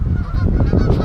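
Canada geese honk loudly and close by in a dense overlapping chorus, harsh nasal calls tumbling over one another without pause.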